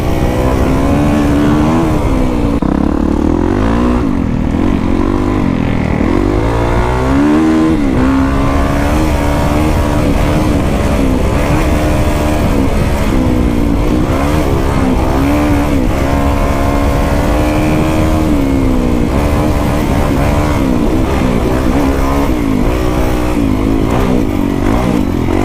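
A Kawasaki KX450X dirt bike with an FMF exhaust tears across the desert at high speed, its engine loud and continuous, rising and falling in pitch as the rider shifts and throttles.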